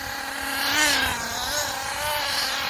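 A nitro-powered HPI Firestorm 10T RC truck engine, running rough with its idle set far too high and trailing smoke, holds a close, steady buzzing whine whose pitch wavers slightly up and down without cutting out.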